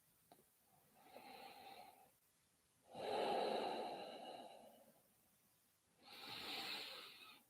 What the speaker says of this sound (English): Breathing in and breathing out and putting a little bit of extra pressure on.